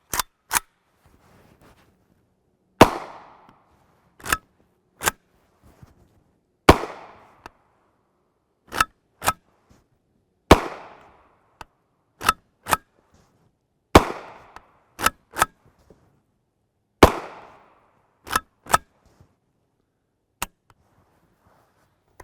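A 10.5-inch short-barreled Zastava M92 PAP rifle with a folding stock and handguard fires subsonic 182-grain FMJ 7.62x39mm Prvi Partizan rounds. About twenty sharp, fairly close reports come in an irregular string, some with a short ringing tail, and there is no talking.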